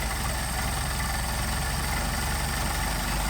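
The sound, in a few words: Mercedes 190SL engine idle rising with Solex carburetor adjustment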